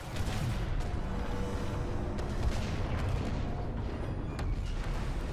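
Gunfire and blasts in the Star Wars Battlefront 2 video game, a dense continuous barrage of shots and booms at steady loudness throughout, with no talking.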